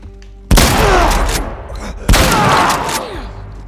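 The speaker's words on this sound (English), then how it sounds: "How you like a shotgun blast to the ass?" Two loud, close shotgun blasts in The Last of Us, each a sudden heavy boom with a long echoing decay, about a second and a half apart.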